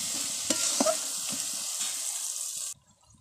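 Loud, hissing sizzle of marinated chicken in hot spiced masala releasing its oil, with a few clattering stirs early on. The frying noise stops abruptly near the end, leaving only faint rustles.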